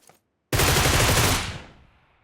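A loud, close burst of automatic gunfire in a shooter video game, a dense continuous volley lasting about a second before tailing off, following a brief quiet gap.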